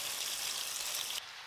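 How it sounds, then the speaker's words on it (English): Chicken pieces fry in a pan in small batches, giving a close, steady hiss and crackle of hot oil that drops slightly in level just before the end. "you're frying chicken"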